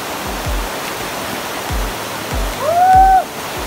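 A waterfall among the many falls of Alibeng in Sison, Pangasinan, roaring as a steady broad rush close by, with a few low thumps and a short whistle-like call near the end.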